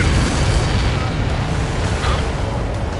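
A missile explosion in the Ace Combat video game roars as a loud, dense, rumbling blast that holds steady for a few seconds, with no voices over it.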